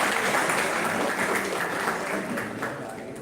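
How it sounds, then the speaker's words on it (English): Audience clapping at a college personal development session in Delhi, a dense, steady round of applause that fills the whole span and fades slightly toward the end, with faint voices mixed in. "Clap, please, for her."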